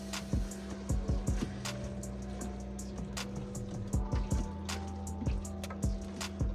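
Ground beef browning in a pot on an RV stove, with a steady sizzle under repeated scraping and clacking strokes of a spoon as it is stirred, close and fairly loud throughout.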